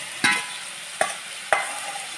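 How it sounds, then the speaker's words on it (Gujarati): Onion frying in a pan for Gujarati batata poha, a soft steady sizzle broken by three sharp close scrapes of a spoon stirring against the pan. "થોડી સતળાય એટલે આપણે આ ડુંગળી નાખી દઈશું।"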